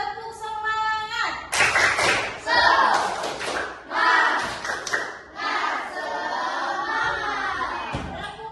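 Children in a classroom clap out a rhythmic group clapping game, bursts of loud unison claps interleaved with shouted chanting voices, close and energetic.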